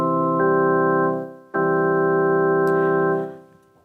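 Organ-like sustained major chord played twice: a clear, steady held tone that fades out, then returns for a second longer hold before releasing, close and moderately loud, with no talk.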